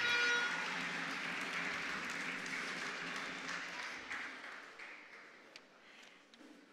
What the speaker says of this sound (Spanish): Fuerte el aplauso para Mi Ambiente.